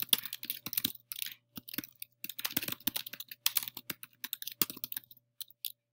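Keys on a computer keyboard are typed in quick, irregular bursts of crisp clicks with short pauses between words, close and fairly quiet with no speech.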